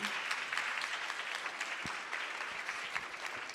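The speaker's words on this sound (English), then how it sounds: "If you could help me give a warm round of applause" Audience applause inside an Apple store after a fitness workout interview, a steady patter of many hands clapping at moderate distance, fairly quiet and continuous with a few brief bumps.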